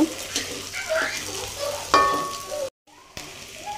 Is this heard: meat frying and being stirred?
yes